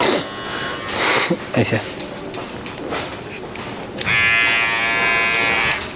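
A VGR V197 electric hair trimmer runs with a steady, close buzz in the latter half, after a stretch where someone talks over clattering handling noises.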